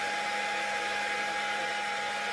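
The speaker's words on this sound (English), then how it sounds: "I'm using the hair dryer to evaporate the water" A hair dryer blows with a steady, even whir close by, drying water off a telescope mirror, unbroken for the whole stretch.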